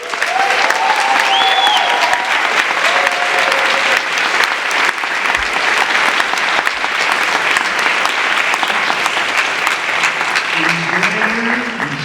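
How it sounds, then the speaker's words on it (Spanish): Sustained audience applause for Roberto at a Spanish-language panel discussion on Pedro Páramo, a dense steady roar of clapping hands lasting throughout, loud and continuous without fading. "Un aplauso para Roberto."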